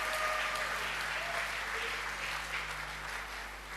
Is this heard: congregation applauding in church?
yes